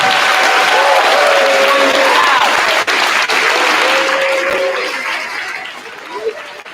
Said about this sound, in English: let's have another big round of applause for them.